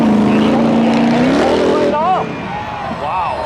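An Audi S4 and other cars racing at spectator drags, a loud close engine drone that rises in pitch and then breaks off, followed by a shorter revving swell, with commentary over the top.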